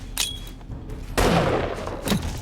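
A grenade blast in the zombie survival game 7 Days to Die, a loud broadband boom bursting in mid-clip after a smaller pop, with a further thump near the end and no speech.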